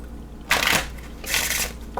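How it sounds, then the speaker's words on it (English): A tarot card deck is shuffled in two quick riffling bursts, each about half a second and close by, with a third starting at the very end. "Go ahead and give our deck a shuffle."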